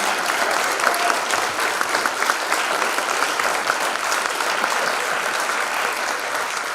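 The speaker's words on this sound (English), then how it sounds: "let's give them a big round of applause." Loud, sustained applause from a crowd at a 2022 PTA ceremony, honoring standing faculty and staff; dense, steady clapping fills the whole stretch with no break or talk.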